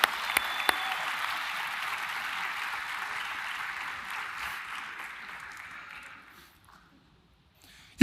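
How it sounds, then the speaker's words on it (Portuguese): Sustained applause from a church audience, steady and fairly loud before fading out over several seconds into near silence. "Uma salva de palmas para a nossa produção."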